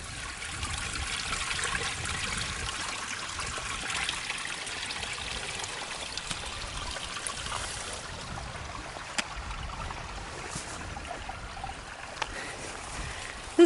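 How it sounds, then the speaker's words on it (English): Water trickles and runs down a Cumbrian hillside stream, a continuous soft rushing mixed with wind buffeting, steady and moderately close with no voices. "this entire hillside is just one running stream, basically"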